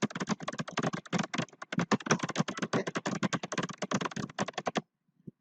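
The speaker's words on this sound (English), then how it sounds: "I am doing some typing like this." Rapid typing on a computer keyboard, a dense run of close, crisp key clicks for several seconds that stops abruptly near the end, with no talk over it.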